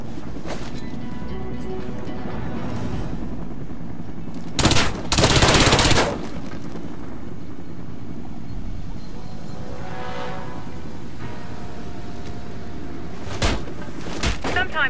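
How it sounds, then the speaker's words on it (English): Sharp SMG bursts in the PC shooter Warface, a few short loud volleys standing out against a low steady background hum with some speech. "Hit the target with your SMG."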